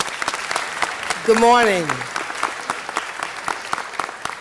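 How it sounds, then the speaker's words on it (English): A city council audience gives steady applause, a thick wash of clapping throughout, briefly overlapped by a voice speaking a greeting. "let's give them a round of applause."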